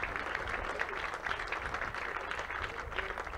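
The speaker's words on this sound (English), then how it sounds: "clap for Jesus" A crusade audience in Imo State claps together, a steady, fairly faint wash of applause heard from a distance throughout.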